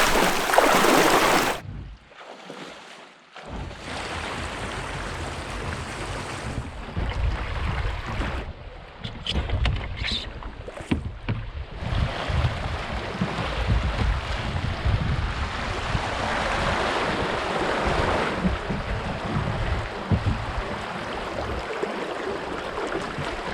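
Paddle strokes and rushing water around a loaded canoe on a wild Canadian river, with steady wind buffeting the microphone throughout and brief quieter gaps near the start.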